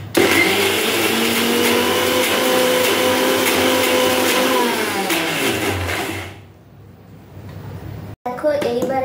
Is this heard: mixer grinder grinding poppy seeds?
yes